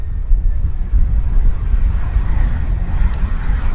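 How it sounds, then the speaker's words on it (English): Business jet landing at Vancouver airport, a steady low rumbling engine roar with faint wind noise, sustained and moderately close without any break. "We've got a bizjet landing."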